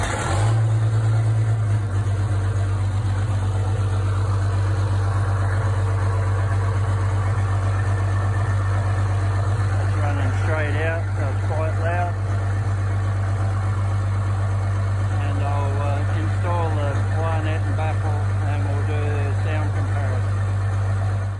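Chevrolet C6100 truck engine idling steadily with a straight-through exhaust, a loud deep low rumble running throughout after firing up, with people talking over it midway.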